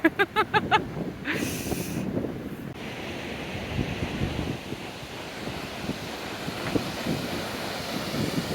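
Waves wash against the Lake Michigan shore at Indiana Dunes, a steady rushing surf buffeted by gusty wind noise, with a few sharp knocks at the start.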